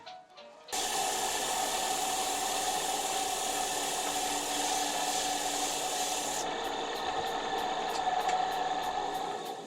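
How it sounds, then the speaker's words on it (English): Steady, continuous abrasive rubbing of 150- and 220-grit sandpaper against wood, close and even, after a brief quieter start; no talking. "pull out my sandpaper again, 150, 220, sand it down"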